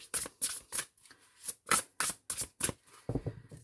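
Oracle cards being shuffled for a tarot-style cross reading: a quick series of about ten crisp riffling bursts at a steady rhythm, close and fairly quiet, with no talk.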